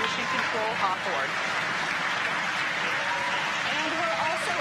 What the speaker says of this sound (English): obviously confirmed by the loud cheer behind us here at Mission Control Hawthorne